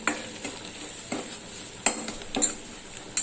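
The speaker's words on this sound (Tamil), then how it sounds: "இப்போ இதை நம்ம வதக்கிக்கலாம்." Ground masala paste with ginger and garlic sautés in a pan for Tamil-style egg gravy, giving a soft sizzle broken by several sharp spatula scrapes and stirring clinks, close and fairly quiet.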